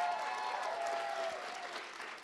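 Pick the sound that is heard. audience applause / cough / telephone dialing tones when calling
audience applause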